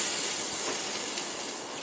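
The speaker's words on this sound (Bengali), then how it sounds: "আমি ঝোলটাকে ফোটানোর জন্য জল দিয়ে দিলাম। তো ফুটে উঠেছে।" Fish curry broth with bottle gourd boiling in a pot after water is added to the chili-fried spices, giving a steady, close, fairly loud hiss of rolling bubbles throughout.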